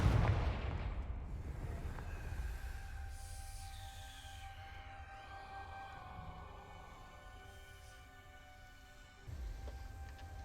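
Bombarda and Confringo spell blasts in the Hogwarts Legacy video game land as a loud booming burst at the start and fade into a long, rumbling decay, with another heavy blast hitting near the end.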